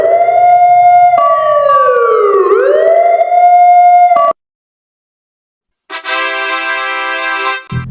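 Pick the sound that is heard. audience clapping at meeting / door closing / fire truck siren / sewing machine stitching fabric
fire truck siren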